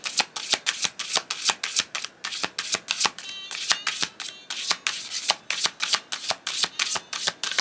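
Oracle cards being shuffled, a rapid run of crisp, riffling flicks repeating steadily and close up, with no talking over them.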